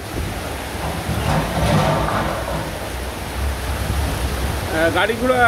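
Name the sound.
heavy rain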